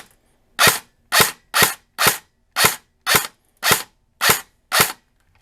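A Classic Army Mk16 airsoft rifle on a 9.6-volt NiMH battery fires nine single shots through a chronograph, each a sharp, close snap, spaced about half a second apart with no talking.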